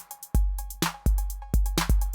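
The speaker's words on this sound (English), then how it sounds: "that cowbell sound was a very important sound in early hip-hop" A programmed drum machine pattern in an early hip-hop style, with a bright, ringing cowbell tone repeating over booming kick hits in a tight syncopated groove, loud and clean with no voices.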